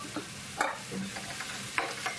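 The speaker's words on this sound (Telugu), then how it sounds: "ఇప్పుడు 5 మీడియం సైజ్ ఉల్లిగడ్డల్ని సన్నగా తరుక్కొని ఆయిల్లో వేసుకొని" Sliced onions fry in oil in a pan, giving a faint, soft sizzle that is broken by brief scraping stir sounds.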